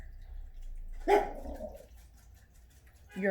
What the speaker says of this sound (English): Sorry if you guys hear my dog.